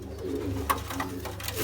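Ferozpuri pigeons coo softly in a cage over a low, steady background, with a few brief coos rising and falling across the short stretch.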